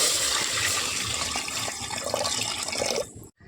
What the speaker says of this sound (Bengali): হাঁড়িতে আমি একটু পানি নিয়ে নিচ্ছি।